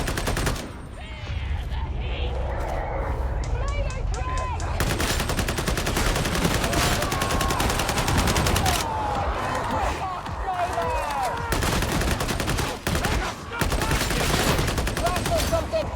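Autogun fire from Warhammer 40k Darktide rattles in rapid, dense bursts almost nonstop, loud and close, layered with battle noise and voices talking throughout.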